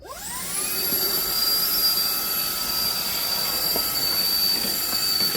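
HAUSHOF 24V cordless wet dry shop vacuum spinning up with a rising whine, then running steadily with a high-pitched motor tone and airy suction roar, close and continuous, with faint knocks from the nozzle.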